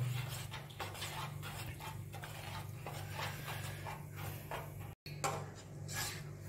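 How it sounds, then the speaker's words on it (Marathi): Raw mango jam being stirred constantly in a pot over a low flame, a spoon scraping and tapping the metal sides in a steady repeated rhythm. "सतत हलवायचं"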